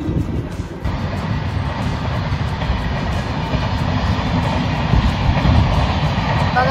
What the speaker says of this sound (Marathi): अभिने कधी ट्रेन बघितलीच नाहीये ना अभि?